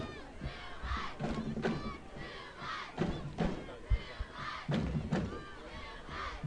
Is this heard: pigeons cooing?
no